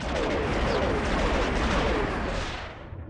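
Starship blaster fire in the Star Wars Galaxies space combat game: a dense, continuous barrage of loud rapid shots and explosive bursts that holds for about two and a half seconds and then fades out.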